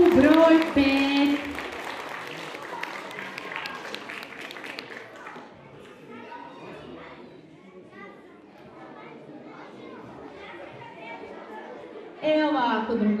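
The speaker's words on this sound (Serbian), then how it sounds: "Molim vas da jednim gromovastim aplauzom pozdravite ekipu broj 5." An audience at a children's competition awards ceremony claps for the winning team. An announcer speaks at the start and again at the end, and the clapping thins into a murmur of chatter and children's voices.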